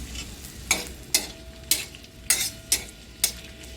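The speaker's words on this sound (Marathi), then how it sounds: "आपण कांदा भाजून घेऊया" Onion frying on a tawa for besan pithla, a low sizzle punctuated by six evenly spaced stirring scrapes of a spatula against the pan.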